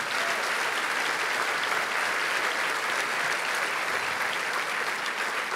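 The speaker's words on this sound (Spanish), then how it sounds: "Den un aplauso fuerte al Señor" A church congregation claps loudly and steadily for several seconds, a dense and even wash of many hands, with no clear voices above it.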